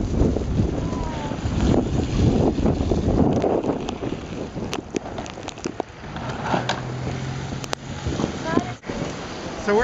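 Blizzard wind blowing snow on a Chicago street, loud buffeting gusts hitting the microphone in bursts, strongest early, with a person talking nearby.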